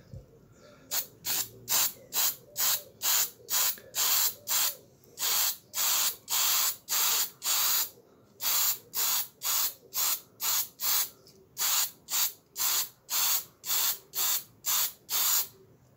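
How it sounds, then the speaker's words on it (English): Repeated short bursts of metallic aerosol spray paint hissing, about two dozen quick pulses in a steady rhythm, close and fairly loud with no talking. "we're going to spray everything and see how it look at the end"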